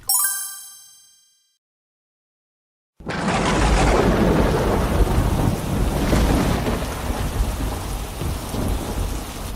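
Cartoon heavy downpour with thunder: a bright chime rings out and fades, a brief silence follows, then loud, dense pouring rain bursts in with rolling thunder and continues steadily with no voices.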